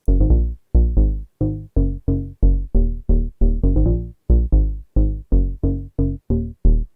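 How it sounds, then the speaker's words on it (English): A house sub bass synth patch built in Vital plays a bouncy line of short, deep, plucky notes in a steady dance rhythm, loud and alone with no other instruments. "how you can make a cool house sub bass in Vital"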